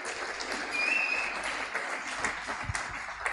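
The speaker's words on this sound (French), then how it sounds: "Est-ce qu'on peut acclamer pour la parole de Dieu?" A church congregation applauds together, a steady wash of clapping hands that stays even and moderately loud throughout, with no one speaking over it.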